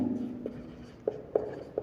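Writing on a board during a Class 12 physics lesson on interference: a few short, crisp scratching strokes and taps arriving in an uneven rhythm, close and fairly quiet.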